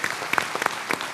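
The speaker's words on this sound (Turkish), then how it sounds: "Alkışlıyoruz." A studio audience at a Turkish televised political arena programme claps in a short, uneven spatter of separate hand claps, fairly close and moderately loud, with a faint voice underneath.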